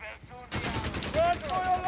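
Bursts of automatic gunfire and rapid shots crackle in Company of Heroes 3 combat, opening suddenly and continuing densely under game voice callouts.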